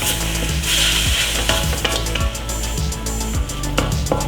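Minced pork sizzles in a pan over low to medium heat, a steady frying hiss broken by regular scraping and stirring strokes of a utensil against the pan, close and clear with no voices.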